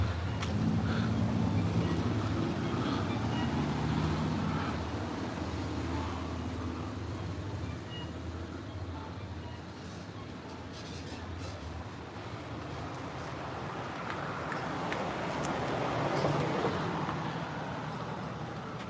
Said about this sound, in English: Some cars make too much noise.